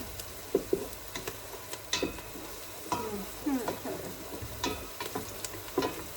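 Onions sizzling and frying in a pan for a creamy ravioli soup, a steady close crackle broken by repeated scraping stirs and light utensil taps against the pan.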